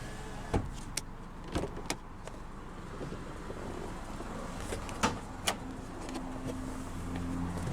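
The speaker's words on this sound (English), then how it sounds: "The driver's window is automatic down." Driver's power window on a 1997 Honda Accord motors down, a steady low whir under a few sharp clicks and thumps, close and fairly quiet, with no talking.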